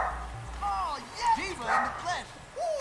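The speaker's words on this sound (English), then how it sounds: "And now Charlie's barking and my door's closed." A dog barks repeatedly in yips and higher whimpering barks from behind a closed door, muffled and moderately distant, heard over the sounds of an Overwatch match.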